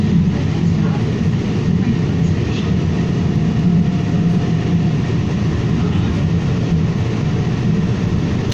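A Calgary CTrain light rail train on the northeast Blue Line toward Saddletowne rumbles steadily along its track, a continuous low drone filling the whole stretch with no breaks.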